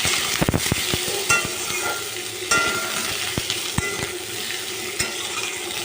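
Flattened rice (chira) stirred in a little white oil in a pan, with a soft continuous sizzle under sharp scraping and clacking of the spoon against the pan, close and repeated.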